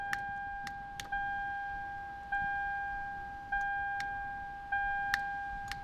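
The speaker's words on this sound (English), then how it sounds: "Now it just clicks and does nothing" A Lexus steering column mechanism clicks sharply at roughly one-second intervals without moving, over a repeating electronic chime in a quiet car interior.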